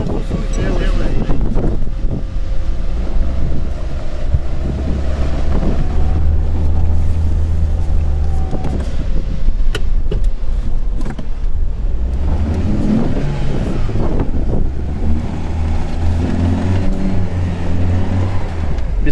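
Lada Niva stuck off-road with a wheel spinning in place, its engine droning loud and steady under wind buffeting the microphone, with the revving rising and falling through the whole stretch.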